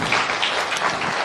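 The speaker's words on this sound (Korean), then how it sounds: "지금까지 함께해 주신 하나님께 영광의 박수 삼가 올리겠습니다." A church congregation applauds in a brief, loud burst of dense clapping, continuous and close throughout with no voices on top.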